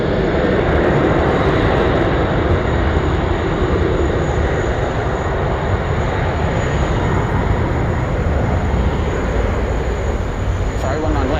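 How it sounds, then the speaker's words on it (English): A Boeing 717 arriving from Canberra lands on runway 19 left at Sydney Airport, its engine roar loud, broad and steady for the whole stretch, with no break in the noise. "It's another 717 from Canberra, landing here on 19"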